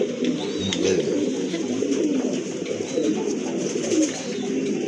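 A group of pigeons coos steadily in soft overlapping rumbling calls, fairly quiet and continuous, with no voices present.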